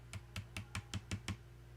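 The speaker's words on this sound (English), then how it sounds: "Just kind of dry brushing it along." A dry paintbrush sweeps lightly across a junk journal cover, making six quiet, evenly spaced scratchy strokes at a steady rhythm, close and alone.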